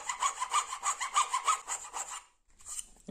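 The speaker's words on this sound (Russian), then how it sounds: "при помощи напильника делаю небольшую канавку" A hand file rasps a small groove into clamped metal pieces in a workshop, about eight steady, rhythmic back-and-forth strokes close up, then a pause and one brief final stroke.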